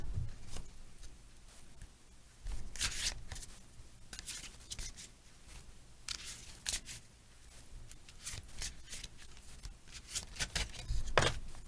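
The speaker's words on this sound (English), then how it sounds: "I do like to shuffle a little bit on camera." Tarot cards are shuffled quietly in repeated short riffles and bursts of flicking, close and soft, with no talking.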